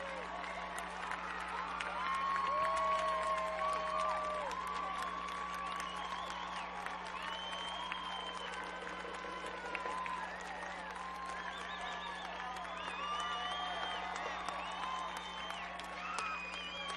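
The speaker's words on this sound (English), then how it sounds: "Let's cheer her right down to the finish line." Spectators at school relay races cheering a runner toward the finish line, a distant, continuous mix of shouts, whoops and scattered clapping from a large outdoor crowd, fairly faint throughout.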